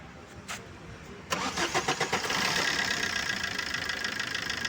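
A Maruti Swift, repaired after a starting problem with long cranking, cranks briefly in a quick series of starter pulses, then catches and settles into a steady, close idle.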